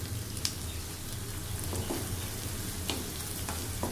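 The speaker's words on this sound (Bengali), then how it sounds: "হালকা করে একটু নাড়াচাড়া করে নিব এবং যখন পেঁয়াজটা দেখবেন যে একটু নরম হয়ে এসছে" Onions are stirred and fried in a pan with a steady, fairly quiet sizzle and crackle, plus a few soft scrapes of stirring.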